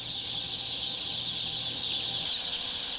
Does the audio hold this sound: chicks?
yes